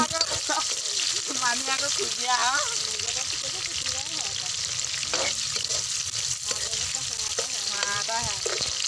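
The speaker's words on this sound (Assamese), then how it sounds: "পিঁয়াজখিনি ৰঙা হোৱালৈ ভাজি থাকিব" Onions frying in hot oil in a pan, a steady close sizzle with occasional stirring scrapes, while someone talks over it throughout.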